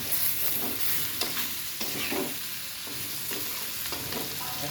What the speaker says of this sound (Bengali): বেগুনগুলো খুব ভালো করে ভেজে নেবো হলুদ লবণ দিয়ে দেবো